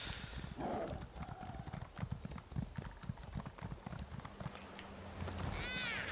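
Rapid rhythmic hoofbeats of a horse galloping in Elder Scrolls Online, a steady close clip-clop over a game background, with a neigh near the end.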